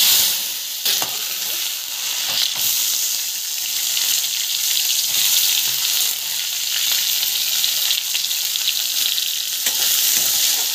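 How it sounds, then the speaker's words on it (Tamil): Mustard seeds, cumin and chana dal sautéing in hot oil give a steady, close sizzle with occasional stirring clicks and scrapes, no voices. "கடுகு, சீரகம், கடலைப்பருப்பு நல்லா வதங்கணும்."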